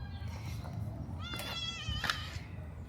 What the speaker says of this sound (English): He meows a lot.